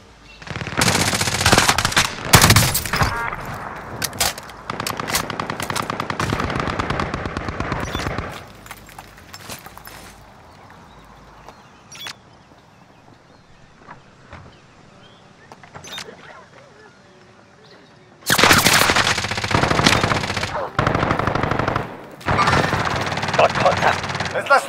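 Automatic weapon fire in Call of Duty Modern Warfare rattles in loud sustained bursts, drops away to sparse distant shots and in-game radio chatter in the middle, then returns with heavy rapid volleys near the end.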